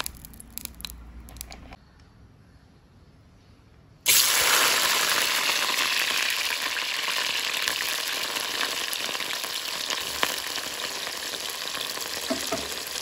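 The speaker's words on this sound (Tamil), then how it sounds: "கோவாப்பு வந்து பொரிக்கப்படும்." Cauliflower frying in oil, a loud, steady crackling sizzle that starts suddenly after a few quieter seconds of faint kitchen noise and continues without pause.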